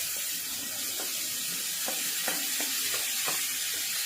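Tomatoes hit golden-brown onions frying in a pan, setting off a steady loud sizzle and hiss, with a few soft stirring scrapes and knocks under it.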